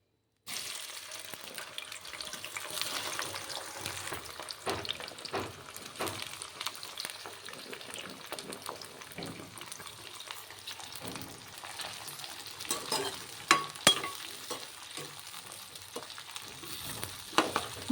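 Cut ivy gourd pieces fry in plenty of oil with a steady, soft crackling sizzle, broken by intermittent scraping and stirring taps that grow sharper toward the end, with no talk.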